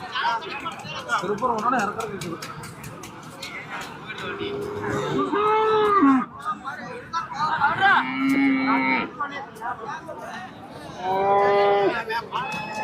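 Cattle at a weekly livestock market, including native Kangayam-type cows, moo repeatedly in drawn-out calls near and far, over a busy background of people talking and market bustle.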